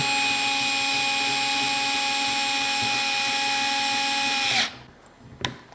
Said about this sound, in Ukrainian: Беремо викрутку і починаємо закручувати нижню пластину.